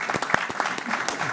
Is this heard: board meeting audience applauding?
yes